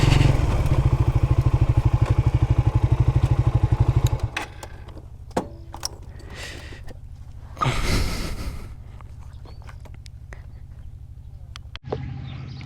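A new motorcycle engine runs loudly and steadily up close, with a strong low drone that drops to a quieter idle partway through, broken by occasional thumps and clatter, on a remote riverside char road near Sonagazi.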